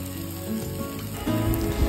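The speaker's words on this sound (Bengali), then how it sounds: "সব মশলাগুলো দেখো ভাজা হয়ে গেছে" Spices with cumin powder and chili powder sizzle steadily in a hot pan, a close crackling hiss that swells slightly as the frying goes on.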